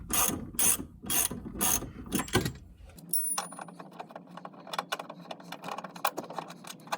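A ratchet wrench clicks in rapid bursts while removing a nut from a BMW E21 front suspension, followed by looser metallic clinks and tool handling nearby.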